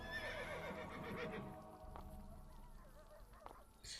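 A summoned horse in Assassin's Creed Brotherhood whinnies loudly up close, followed by a few scattered hoof clops that fade under faint game ambience.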